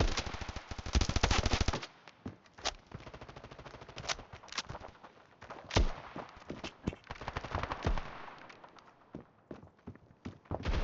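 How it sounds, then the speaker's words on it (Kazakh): Gunfire from enemies in the shooter game Standoff, rapid machine-gun bursts and scattered single shots crackling at irregular intervals, loud and sharp against quieter gaps. "бұлар жан жақтан мені атып жатыр"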